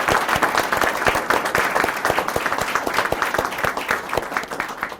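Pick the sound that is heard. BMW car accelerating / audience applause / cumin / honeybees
audience applause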